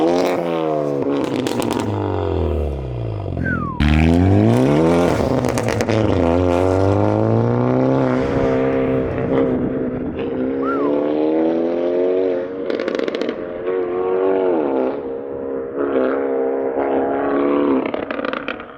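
A straight-piped Hyundai Elantra N with an Xforce downpipe revs hard up close, its exhaust climbing and falling through repeated loud sweeps, with sharp pops and crackles between pulls, sounding alone throughout.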